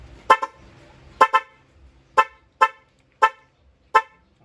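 A dual motorcycle horn honks in short, sharp beeps, first doubled, then in single toots at an uneven pace, close and loud.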